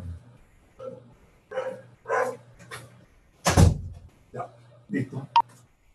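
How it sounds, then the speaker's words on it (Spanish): Dogs bark several times in short bursts near a home computer, mixed with someone talking, and a sharp knock midway fits a door being pulled shut, over a low steady hum. "voy a cerrar la puerta porque tengo unos perros que están haciendo bulla"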